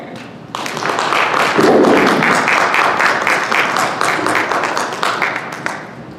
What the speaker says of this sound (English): Please give a warm round of applause for Tempe's own Imam Omar.